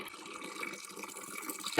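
Water runs steadily from the spout of the old Novlu spring, a stone spring built in 1880 in Malıbəyli village. It makes a soft, continuous splashing trickle with no voices.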